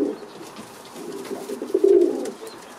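Pigeons coo softly in a breeding loft, a low rolling coo swelling near the end of a short stretch over faint background rustle.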